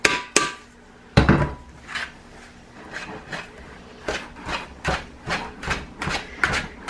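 A hand whisk stirs citric acid into a soap or bath mixture, clattering against the bowl in sharp, rhythmic taps that come quicker toward the end, close and fairly clear.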